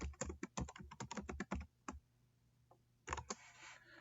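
Quick bursts of keystrokes on a computer keyboard as a password is entered, clicking in uneven clusters with short pauses, fairly close and quiet, with no talk.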